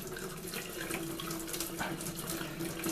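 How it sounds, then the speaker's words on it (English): Boiling water pours onto a foam glider wing in a steady, continuous stream for a few seconds, a splashing rush with no talking. "pour some boiling water"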